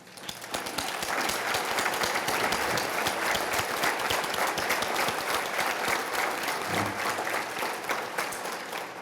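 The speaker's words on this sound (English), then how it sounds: "would you please stand while we give you a round of applause for your efforts in making tonight possible?" Audience at the ATHENA Award 2021 event applauding steadily, a dense wash of clapping from many hands that swells quickly and holds for several seconds.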